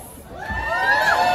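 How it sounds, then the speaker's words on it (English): An audience at a comedy show aboard a cruise ship cheers and whoops loudly, with shouts rising and building over a second or so. "You're cheering now, we'll see how you feel in a minute"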